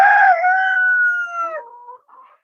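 Close and loud, a rooster crows on a poultry farm, one long drawn-out call that tapers off, followed by a short clucking note from the chickens.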